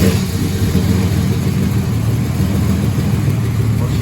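A sport truck engine runs loud and close, a steady low-pitched rumble with some revving throughout, after the ignition coil has been plugged back in.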